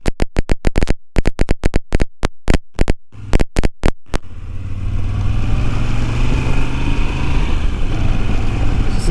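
A motorcycle riding on a road in second gear, a loud, steady engine drone with wind rush that takes over after a few seconds of sharp, rhythmic knocking near the start.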